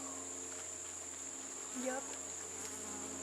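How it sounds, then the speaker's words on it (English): Bees buzzing from a hive hidden inside an outdoor tree stump, a steady faint drone throughout with a brief closer swell near the middle; a voice briefly speaks. "heard a bunch of buzzing. We think we've discovered a hive inside a tree stump."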